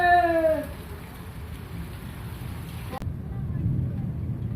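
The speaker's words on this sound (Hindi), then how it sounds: "आज अल्लाह पाक की रहमत बारिश हमारे यहाँ पर टोटली पड़ी है" Heavy summer rain falls in a village during a strong storm, a dense steady hiss that stays loud throughout, with a brief whistle-like tone at the start and a sharp knock near the end.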